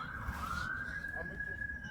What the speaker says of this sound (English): You hear the sirens? You guys hear the sirens?